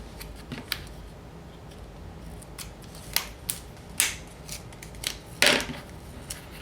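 Scissors snipping through excess paper in a craft project, a series of sharp, close, irregular cuts over a quiet background, with a few louder snips near the end.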